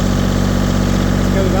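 A LeeBoy paver's engine runs loud and steady, a continuous low mechanical idle rumble with no pauses, close to the microphone.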